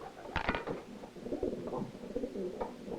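Pigeons cooing inside a racing-pigeon loft, soft low repeated coos close by with a brief clatter near the start, no talk.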